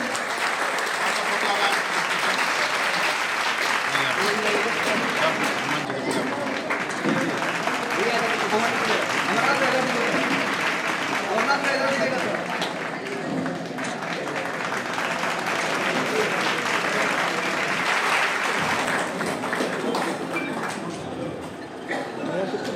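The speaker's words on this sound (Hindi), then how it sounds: "आप लोग ताली बजाएंगे तो निश्चित तौर पर होगा गौरव ताली का स्वागत है" A gathering of the Brahmin community in Purnia for Lord Parshuram's birth anniversary breaks into loud, sustained clapping that keeps going for over twenty seconds, with murmuring voices mixed into the dense applause.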